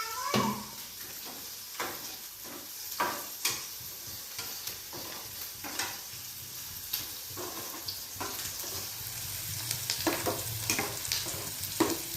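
Ground green masala paste roasts in a pan with a steady soft sizzle, and scattered clicks and scrapes come from stirring close by for the whole stretch.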